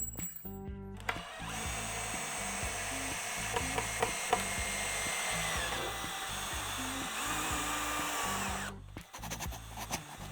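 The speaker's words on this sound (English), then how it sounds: "We're just gonna drill it together, 2 screws on the top, 2 on the bottom." A power drill whirs in a long continuous run with brief clicks and knocks of screws biting into a wooden archery backstop frame, ending abruptly after several seconds.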